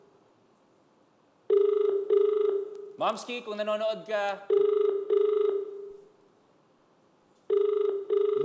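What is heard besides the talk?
telephone ringing during call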